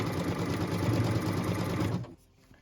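A sewing machine runs steadily for about two seconds, stitching a cut line across several quilt fabric pieces for a block, then stops abruptly, leaving a faint quiet tail.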